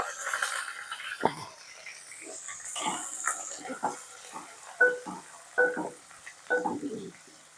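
Oil sizzles softly for a ridge gourd curry with dried shrimp, with intermittent stirring and clatter in a home kitchen, while a voice talks faintly at points.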